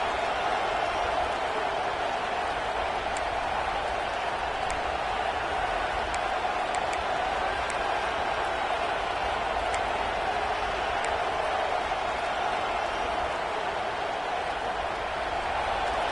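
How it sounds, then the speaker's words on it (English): In a College Football 26 stadium, a crowd gives a dense, continuous roar at steady volume throughout, with a few faint sharp accents. "here comes the noise. This crowd is trying to inspire this defense to make a big red zone stop"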